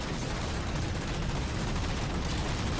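MAC cannon firing in the video game Halo 4, a loud, dense, continuous roar of blasts with rumbling weight that fills the whole stretch without a break.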